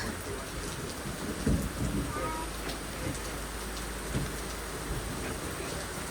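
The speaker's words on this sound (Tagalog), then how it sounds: "Yan, ang ulan. Napakaulan dito sa amin." Heavy rain pours down steadily in a dense hiss in Dumaguete, with occasional louder thumps and patters of water striking nearby surfaces.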